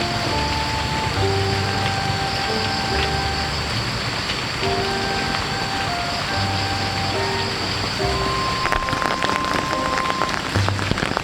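Steady rain falls continuously and fairly loudly, a dense hiss throughout, with soft musical tones playing underneath and the patter growing slightly crisper near the end.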